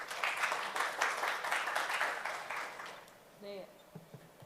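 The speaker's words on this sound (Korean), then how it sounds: "박수로 맞아주십시오." Forum audience claps for a speaker at an international environmental forum in Jeju, a moderate spread of hand claps lasting about three seconds, then fading into room quiet with a few faint bumps.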